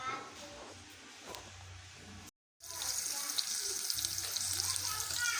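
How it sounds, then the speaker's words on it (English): Onions sautéing in hot oil in a pan, a steady bright sizzle that swells after a brief cut, with a person talking over it. "So heat your oil first and your onions."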